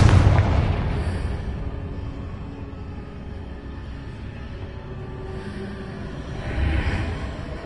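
The Confringo blasting spell from Hogwarts Legacy goes off in a heavy booming explosion at the start, followed by a rumbling decay and a second, softer blast swelling near the end.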